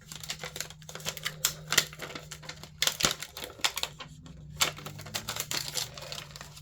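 Paper being ripped up by hand during stamping and colouring craft work, a run of short sharp tearing bursts, close and fairly quiet, with no talking.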